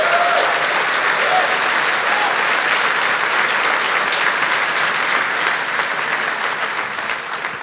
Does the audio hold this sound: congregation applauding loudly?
yes